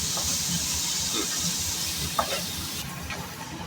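Paneer matar masala sautés in a pan with a low, continuous hiss and sizzle, and a spoon scrapes and stirs now and then, including one brief knock.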